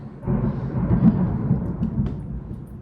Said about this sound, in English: we can see the thunder and lightning